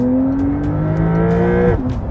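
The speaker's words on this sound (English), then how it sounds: "Okay, the engine sounds a little better." A Porsche 992 Carrera T engine in sport plus mode revs loud and close, its pitch climbing steadily before dropping sharply as the revs fall.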